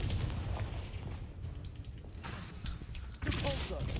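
Confringo spell explosions in a wizard video game, heavy booming blasts with rumbling tails, one sharp hit near the start and another strong burst toward the end, with a voice speaking over the action.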